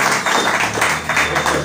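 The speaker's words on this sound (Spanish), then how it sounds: "Démosle un aplauso a" Congregation applause for Alejandro at a religious gathering, a steady dense patter of many hands sustained evenly throughout, fairly loud and close.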